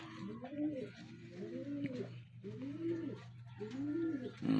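Racing pigeons cooing during a training session, repeated soft rolling coos in a steady rhythm, close and clear, with faint background noise.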